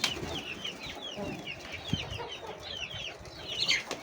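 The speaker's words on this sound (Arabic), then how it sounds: "الشباب ذيك الدجاجة البيضة المنقطة قامت بيض، وهاي الدجاجة البيضة كركت" Backyard hens, including a speckled white hen, cluck and chatter in quick, repeated calls over a faint farmyard background, fairly close and steady throughout with a louder burst near the end, no talking.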